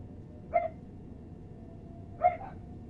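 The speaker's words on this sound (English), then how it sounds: "I'm sorry for the barking" A neighbours' dog left outside in the evening gives two single barks about a second and a half apart, distant and fairly faint over a low steady background hum.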